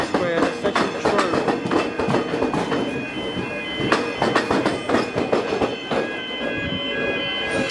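A train runs past on Melbourne's Frankston line, a steady loud rumble with clattering wheel beats and brief squeals continuing throughout, with no talk.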